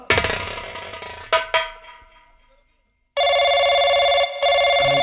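A telephone rings loudly in steady, continuous bursts with a brief gap, following a short stretch of clanging music that fades into silence.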